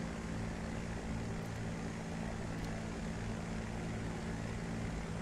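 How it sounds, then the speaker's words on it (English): A Supermarine Spitfire's piston engine runs in the DCS flight simulator game, a steady, droning propeller rumble with a low throbbing hum that holds constant throughout at a moderate level. "if you can start the spit in DCS,"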